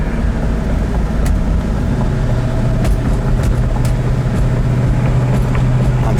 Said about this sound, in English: the car really runs and drives fantastic